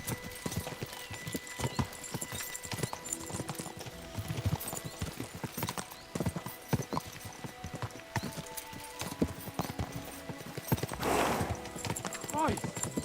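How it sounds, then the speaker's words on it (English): Horses gallop with rapid clip-clop hoofbeats in the medieval Bohemian setting of the video game Kingdom Come: Deliverance II, mixed with a whinny, game music and voices talking over the steady rhythm. "We should spur the horses on."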